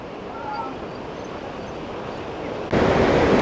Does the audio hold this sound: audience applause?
no